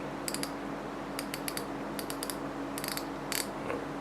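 Bursts of rapid, crisp clicking from the drag of a Shimano Twinpower 2000MgS spinning reel, in short quick runs separated by brief pauses, close and fairly quiet.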